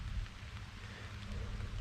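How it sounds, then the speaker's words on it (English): Steady rain falls in a swamp during a duck hunt, a soft continuous patter and hiss close around, with a low rumble underneath and no voices. "It's starting to rain now."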